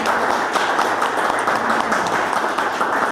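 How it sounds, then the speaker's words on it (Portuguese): Dense, sustained applause fills the room at a Rotary Club award ceremony, many people clapping together at an even level throughout and stopping abruptly at the end. "Uma salva de palmas."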